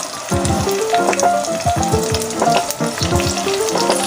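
Tomatoes sizzle and fry in a pan for a kidney bean curry, with a steady crackling hiss broken by repeated scraping and stirring of a utensil against the pan, close and fairly loud.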